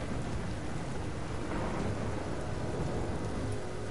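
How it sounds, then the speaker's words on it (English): Rain in the video game Biomutant, a dense, steady downpour hiss with rumbling thunder underneath, loud and continuous with no voices. "Despite the fact that it sounds like it's raining,"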